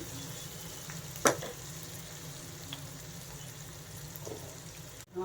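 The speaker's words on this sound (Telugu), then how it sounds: "ఉల్లిపాయలు కూడా బాగా వేగిపోయాయి" Onions frying in a pan for an Andhra-style fenugreek leaf and gram flour curry, a steady close sizzle running throughout with one sharp clatter near the start and a few faint stirring touches.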